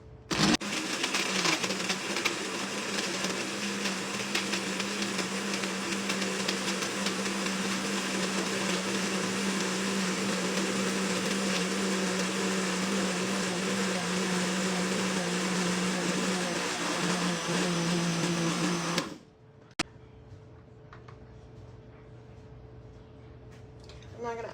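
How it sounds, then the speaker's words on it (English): A blender whirs loudly and steadily for about 19 seconds while blending a protein shake of Greek yogurt and ice, then cuts off abruptly, leaving quieter room sound. "Blending."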